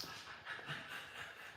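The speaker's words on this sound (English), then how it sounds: "if y'all hear heavy panting" A dog pants heavily during a live homestead chat, a steady run of soft, breathy rasps close by, fairly quiet and continuous without any talk over it.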